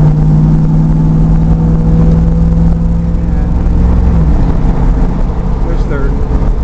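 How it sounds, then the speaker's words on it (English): A 1970 SS 350 rolling along in second gear, its engine a loud, steady low rumble from inside the car, with a voice speaking over it. "Just rolling along in second gear."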